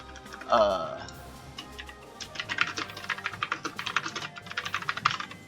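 Fingers tap rapidly on a computer keyboard in a dense run of light, crisp key clicks, preceded by a brief spoken voice at the start.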